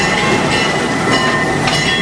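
The Busch Gardens park train rolls along its rails with a loud, steady rumble and rattling clatter of wheels, faint squeals riding over the continuous noise, with no talking.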